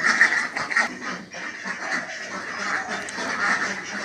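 Khaki Campbell ducks on a small farm quack continuously, a dense overlapping chorus of nasal calls close at hand with no pause throughout.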